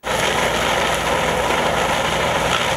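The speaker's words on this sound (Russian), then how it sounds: "Сначала ствол сорняка скашивают трактором." A tractor mowing down tall hogweed stalks in a field, heard as a loud, continuous engine drone with a whirring mechanical roar that holds steady throughout, with no voices.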